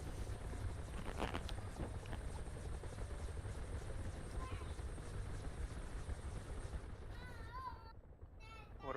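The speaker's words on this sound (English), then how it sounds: "Look at all those helicopters, buddy." Several helicopters fly in the DCS flight simulator game, a continuous rotor drone that stays steady throughout, with a man's speech briefly on top.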